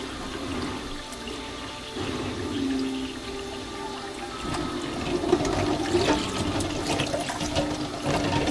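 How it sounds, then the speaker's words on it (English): Cold water runs steadily into a cast iron pot to rinse and cool pasta for a homestead mac salad, a continuous splashing pour lasting the whole stretch, close and moderately loud with no talk. "Put some cold water on there, let them sit for a minute."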